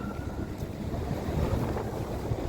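Strong gusty wind at 40 to 50 km/h roars steadily into the microphone outdoors on a November walk, with buffeting rumble and surges but no voices.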